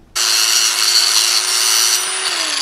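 A power tool cutting a piece of steel plate during an EFI fitting on a 1978 Toyota Corolla: a loud, sustained, close grinding whine starting abruptly and holding steady throughout, no talk.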